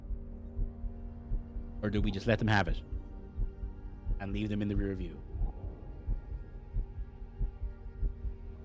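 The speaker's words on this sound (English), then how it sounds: "That was the heartbeat." Heartbeat sound effect from the Star Trek Voyager Across the Unknown video game: steady, low, muffled thumps pulse beneath two short stretches of someone talking.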